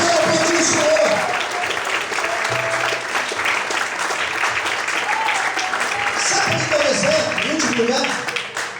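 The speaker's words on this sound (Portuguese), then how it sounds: "Você pode aplaudir o Senhor." Sustained applause from a church congregation, dense continuous clapping with voices calling out underneath, holding steady before tapering slightly at the end.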